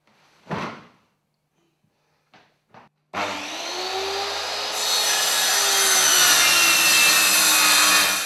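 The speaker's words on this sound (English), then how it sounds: "you saw the installer cutting the edge of this board" A laminate floor board having its edge cut by an installer with a power saw. After a few knocks and handling sounds, a loud, sustained whining cut starts and runs steadily to the end, with no talking.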